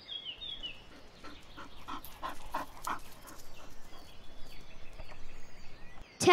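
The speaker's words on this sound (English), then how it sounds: "The dog keeps running in circles with my bag!" A dog pants rapidly while running around in circles with a bag, its breathing close and rhythmic and mixed with light scuffling and a faint whimper, with no talk.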